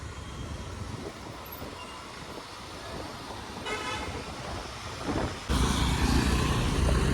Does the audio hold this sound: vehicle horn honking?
yes